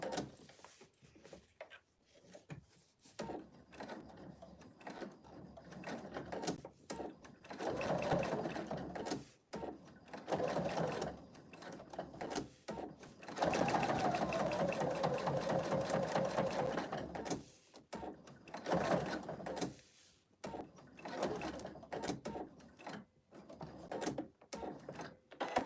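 Stitching curves on a fabric stocking ornament, a sewing machine runs in repeated bursts of steady whirring, pausing and restarting as the work is turned, with short quiet gaps between runs.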